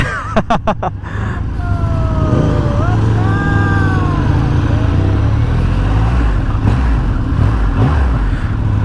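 A 2020 Triumph Rocket 3 R motorcycle engine revs, its whining pitch sweeping up and down over steady rumbling road and wind noise.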